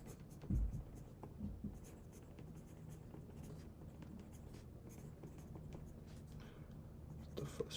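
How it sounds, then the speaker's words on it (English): Notes are written by hand, with soft pen or pencil scratching on paper running steadily at close range, a few louder knocks near the start, and faint background noise. "Let's just write it down."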